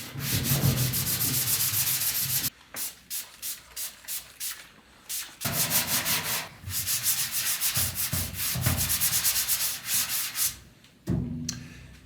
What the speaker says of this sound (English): I'm just going to get the worst of the filth off, and then I'll douse it in WD-40 and give it a good wipe